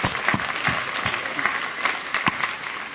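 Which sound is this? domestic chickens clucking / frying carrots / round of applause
round of applause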